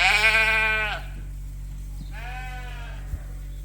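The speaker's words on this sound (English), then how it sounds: "these are the fall ewe lambs" Fall ewe lambs on a sheep farm bleat twice, a loud nearby cry followed by a softer second call, over a steady low background hum.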